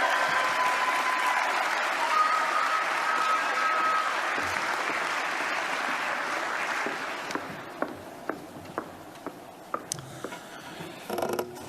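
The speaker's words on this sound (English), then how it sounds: "So can we all give a really big cheer so that they can hear us all the way in Middlebury?" A dense wash of crowd applause fills a sports awards gathering, loud and continuous, then thins out into scattered individual claps near the end.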